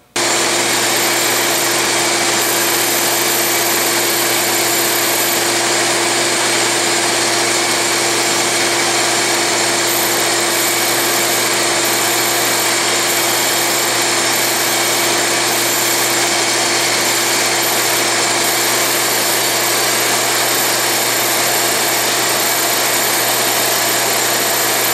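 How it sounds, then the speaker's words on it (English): A bench grinder mounted on an Atlas lathe runs steadily while a diamond dresser passes across its grinding wheel, giving a continuous, even whine and hum that holds unbroken throughout with no talking. "I will start the grinder, not the spindle of the lathe at this time, and just run the diamond across the wheel"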